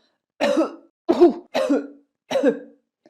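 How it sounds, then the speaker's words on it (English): Four separate coughs, each sharp and short with a brief gap between them, close and clear against silence. "I can't stop coughing."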